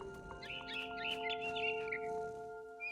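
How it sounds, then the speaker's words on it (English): A barn swallow chirps in What Remains of Edith Finch, a quick run of bright twittering calls over about two seconds, fairly close and soft over a steady humming musical drone. "Then I heard chirping outside my window. It was a barn swallow going back to her nest."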